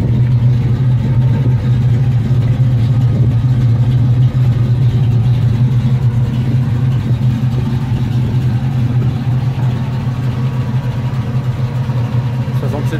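A 1967 Ford Mustang fastback with a 302 V8 runs nearby, its deep steady idle holding a strong low hum with slight rises in revs, while faint voices murmur in the background.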